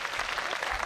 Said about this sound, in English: he gets a polite round of applause from the crowd